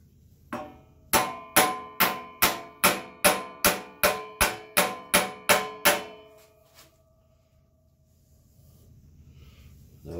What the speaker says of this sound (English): Maybe a little tappy tap.